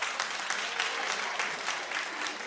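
A studio audience claps in a dense, steady burst of applause lasting a couple of seconds, fairly quiet and without talk.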